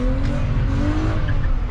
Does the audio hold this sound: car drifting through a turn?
yes